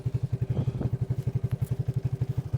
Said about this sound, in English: I hope you can hear me with this motorbike or this quad